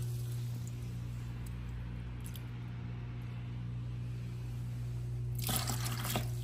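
A brief splash of aquarium water being scooped and poured near the end, over a steady low electrical hum.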